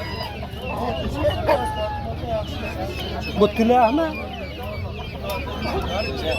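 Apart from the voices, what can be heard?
rooster at a poultry market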